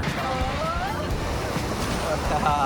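River rapids splash around a raft during a ride in Poland, a continuous rushing, wind-buffeted wash of water with voices talking over it.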